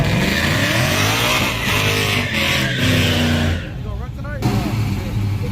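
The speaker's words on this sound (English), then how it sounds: "So I'm just burning it out" A stick shift street car does a burnout at a small-tire drag racing event, its engine roaring steadily at high revs with shifting harmonic tones and tire noise, briefly dipping before surging again, with voices underneath.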